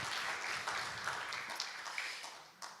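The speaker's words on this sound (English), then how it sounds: "Would you please give him a round of applause?" Audience applause for the sound engineer at a Friday night folk concert, a moderate, somewhat distant spatter of hand claps with a few sharper individual claps standing out, fading slightly toward the end.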